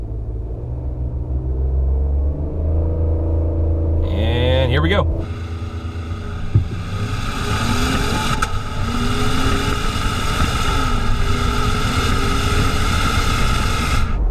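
A Cadillac CT6 Platinum in sport mode with traction control off revs up and accelerates hard, engine rising in pitch then settling into a loud sustained roar and road rumble, with someone talking over it.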